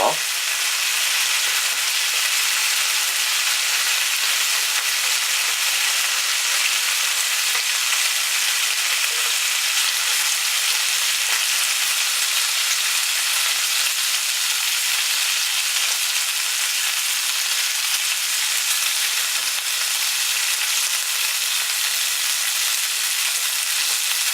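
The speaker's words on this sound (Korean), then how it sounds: "베이컨에서 나오는 기름이 이렇게 마늘도 맛있게 구워주는 거 같아요" Bacon and garlic sizzle in a pan as the bacon fat browns the garlic, giving a loud, steady, close frying hiss that runs unbroken throughout with no talk.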